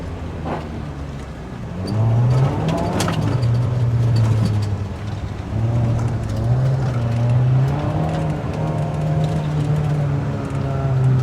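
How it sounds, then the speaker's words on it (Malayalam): A car driven on a race track, its engine droning and rising in pitch as it accelerates, steady and fairly close throughout. "നമുക്ക് ലാപ്പ് ഫുള്ള് വണ്ടി ഓടിച്ച് കാണാം"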